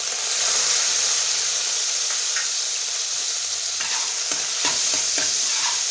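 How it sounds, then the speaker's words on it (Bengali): Washed grapes with salt and turmeric stirred in a hot pan for grape pickle: a constant bright frying hiss with scattered scraping clicks of a spoon against the pan, close and alone. "মিশিয়ে নিলাম"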